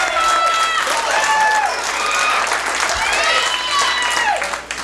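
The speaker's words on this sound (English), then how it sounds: "By a round of applause" A comedy club crowd at a live stand-up show applauds and cheers, steady dense clapping under a mix of voices and whoops from the audience, loud and close throughout.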